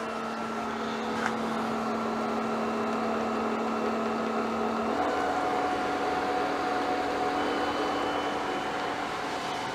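A Hayward TriStar VS 900 1.85 hp variable-speed pool pump motor runs as a steady, loud electric whine with sustained tones that step up in pitch partway through as the speed changes, and no talking.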